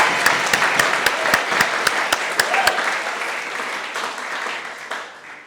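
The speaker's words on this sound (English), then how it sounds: "Yeah, a round of applause." Audience applause after a valedictory speech at a university hall, with crisp, close claps that are sharp at first and then blend into a softer wash as the clapping fades.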